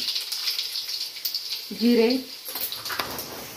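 Mustard seeds sizzle in hot oil with a steady, bright crackling hiss throughout, while a person speaks briefly over it.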